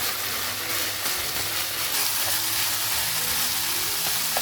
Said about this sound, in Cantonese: 將調料炒勻，就放入切好嘅木耳碎。 炒到所有材料都熟晒啦